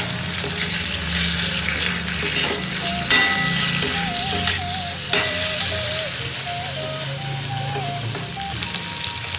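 Vegetables with salt, chilli powder and asafoetida stirred in a hot pan for a Vinayakar Chaturthi dish: steady close sizzling and frying with occasional scraping knocks from the spoon, loud and continuous, no talking.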